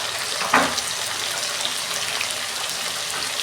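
Taro (kochu) frying in oil with salt and turmeric, a continuous crackling sizzle up close, opened by a brief sharp clatter, with no talk.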